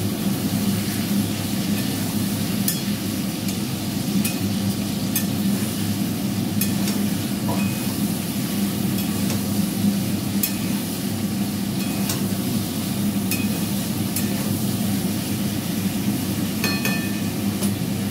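Poppy seeds fry in a pan with panch phoron in a home kitchen while the chimney fan runs, giving a steady low hum and hiss with occasional faint ticks and clinks, and no talking.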